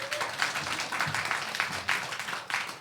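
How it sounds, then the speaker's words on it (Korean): A church congregation breaks into applause, a dense wash of many hands clapping in irregular bursts that rise and fall, fairly close and filling the room. "박수하겠습니다."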